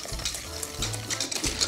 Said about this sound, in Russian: И вот таким образом нам нужно полностью эту массу растереть.